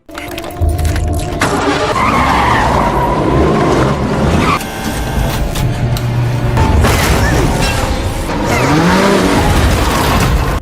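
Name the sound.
car skidding during escape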